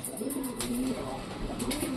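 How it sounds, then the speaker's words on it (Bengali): A newly brought pigeon coos in low repeated calls, close and clear, against a constant background hiss. "ওই দেখো ডাক শুরু করেছে আমাদের নতুন পায়রা"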